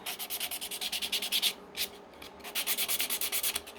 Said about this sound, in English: So as you can see where I have sanded it, these sides are all perfect.